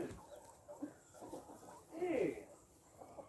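Chickens scuffle and fight as one wrestles another to the ground, giving short clucks and squawks in bursts, close by, while a person talks over them.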